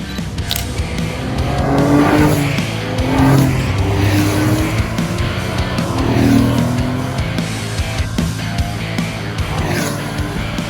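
A 1970 Porsche 911S drives past with engine noise rising and falling, some tire squeal and passing swells, loud and steady across the whole stretch with no talking.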